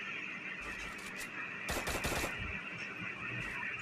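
Bursts of automatic gunfire in a shooter video game as bot enemies are taken down with headshots, one dense loud volley in the middle over a steady game background hum.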